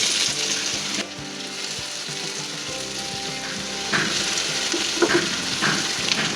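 Onions frying in oil for a chicken sandwich filling give off a dense, continuous sizzle close by, with a low steady hum underneath and a few brighter crackles toward the end.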